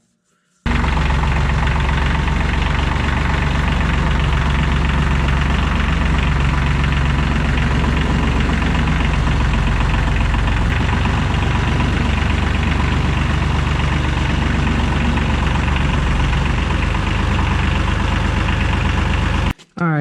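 A tractor engine idles and rumbles loudly and steadily while its steering cylinder is turned back and forth, a heavy low drone lasting throughout with no clear speech.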